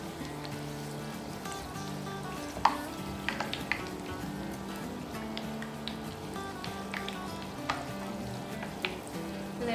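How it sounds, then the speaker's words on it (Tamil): Puri dough frying in hot oil in a pan, a steady bubbling sizzle throughout with a few light clinks of a utensil, under a sustained background tone with no speech. "இப்போ எண்ணெய் சூடு வந்துடுச்சு, நம்ம பூரியை போட்டு எடுத்துடலாம்"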